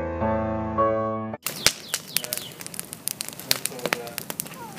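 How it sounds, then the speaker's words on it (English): A campfire burning outdoors after a tonal musical passage ends, with sharp, irregular pops and crackles snapping over a soft bed of flame hiss, close and clear. "Behold, a campfire!"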